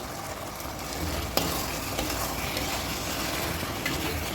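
Country chicken pulao masala, Andhra style, stirred in a pan with coriander powder, giving a steady scraping sizzle with one sharp clatter near the middle and a knock at the end, close and alone.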